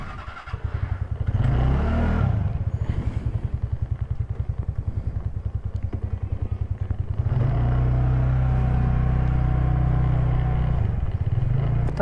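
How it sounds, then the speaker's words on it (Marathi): A motorcycle being ridden, its engine a loud, close, steadily pulsing thrum that shifts to a smoother, higher drone partway through, with no talking. "आणि आपण आज डायरेक्ट बाईकने जात आहे"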